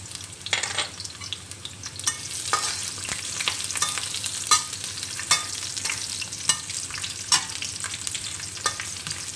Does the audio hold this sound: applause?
no